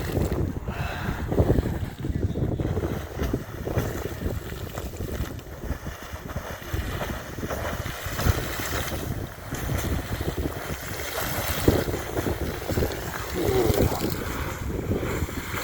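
A geyser near Old Faithful in Yellowstone erupts with a continuous turbulent roar of rushing water and steam, a rough broadband hiss with gusty bursts that keeps going for over fifteen seconds.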